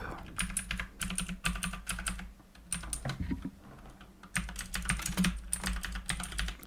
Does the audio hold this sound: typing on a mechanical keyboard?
yes